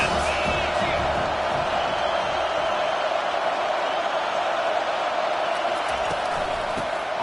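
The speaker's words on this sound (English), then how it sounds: "This crowd trying to make life miserable for this offense." A dense stadium crowd roars steadily at an NCAA 25 college football game, a constant wash of cheering and noise at even loudness with no distinct breaks.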